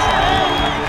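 A League of Legends esports crowd roars and cheers continuously at a professional match, a dense, loud wall of voices with whoops mixed in and no single voice standing out.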